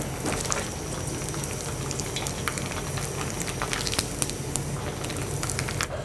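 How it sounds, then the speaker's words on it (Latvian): Barley chips fry in hot oil, a soft, continuous sizzle and bubbling crackle with scattered sharp pops, heard up close with no talking. "Bet tagad ieliekam tādā karstā eļļā, un viņš tūlīt sāka paņemt citu formu, paliek vēl kraukšķīgāks."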